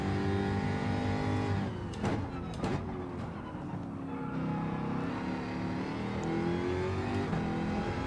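A race car engine in Gran Turismo 7 revs hard and steady, rising and falling through gear changes with a continuous loud whine, no voices.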